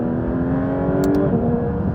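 A Porsche GT3 RS engine revs toward 6,000 rpm on the move, a steady, loud mechanical drone with a slowly rising pitch and a faint high whir near the middle.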